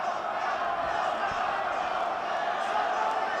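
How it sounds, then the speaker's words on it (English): Crowd at a Hard Knocks Fighting combat sports event, a steady dense roar of cheering and shouting that fills the whole stretch at an even level with no breaks. "The crowd going crazy here"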